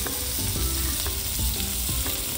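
Hot oil sizzles in a pan while fish is being fried, a close, steady crackling hiss with a few brief clicks of a utensil and no talk.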